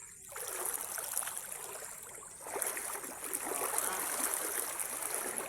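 River water flows steadily and close by, a continuous rushing trickle with gentle gurgles that swells slightly partway through, with no voices heard.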